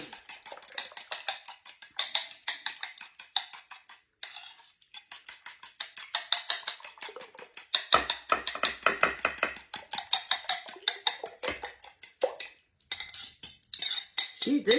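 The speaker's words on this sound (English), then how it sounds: "I'm just mixing this together so to make it a lot easier." Batter being stirred by hand in a bowl for a morning cake, with a utensil scraping and clinking against the sides in a steady, rapid rhythm, close and moderately loud, with no talking.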